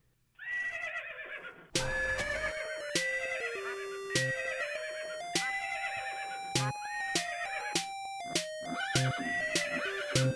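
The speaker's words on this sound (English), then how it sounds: "I've been trying to tame this horse for like a good 2 minutes or so." A horse in the Minecraft video game neighs repeatedly while being tamed, a string of loud, clear whinnies following one after another with short gaps between them.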